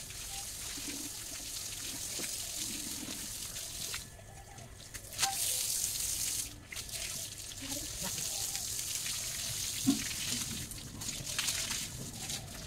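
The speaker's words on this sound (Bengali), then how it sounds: "মোটর চালু করে দিয়েছি, বারান্দাটা এখন ধুয়ে নিব।" Water runs steadily from a motor pump while a veranda is washed, a continuous broadband hiss and splash with faint clatter and brief louder bursts throughout.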